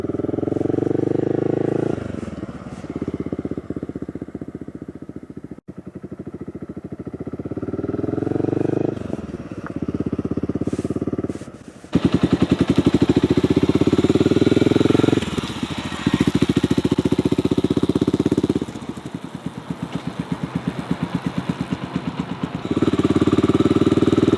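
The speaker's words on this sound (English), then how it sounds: "I am putting the bike into second gear" A motorcycle engine runs close while being ridden, revving up and dropping in repeated surges with brief dips between gear changes, loud and steady over about twenty seconds with no talk.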